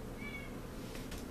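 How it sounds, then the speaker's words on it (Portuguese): A cat meowing, a single thin, crying meow near the start, faint against a steady room hum. "Gato chorando."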